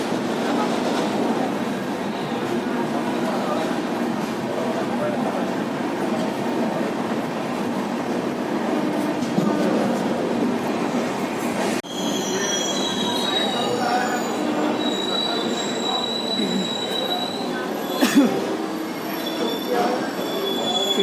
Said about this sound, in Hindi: फिर से रुक गई ट्रेन